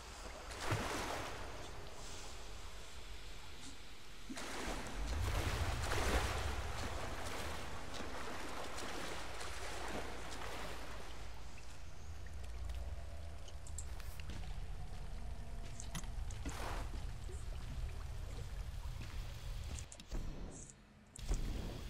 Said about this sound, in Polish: Ciągle strumień jakby leci.